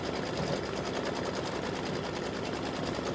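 Embroidery sewing machine running an open quilting stitch, a steady rapid mechanical chatter of needle strokes, close and continuous throughout.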